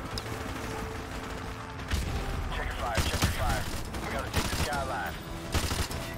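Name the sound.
gunfire from allies in the video game Modern Warfare Remastered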